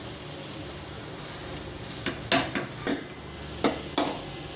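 A cabbage paratha roasts on a pan over a low flame, a soft steady sizzle with a few brief taps and scrapes as it is pressed down, close and quiet, with no speech.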